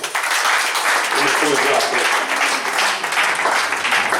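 A church congregation applauds together in a full, continuous burst of close clapping, with voices mixed into the crowd noise.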